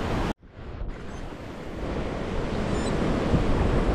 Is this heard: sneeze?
no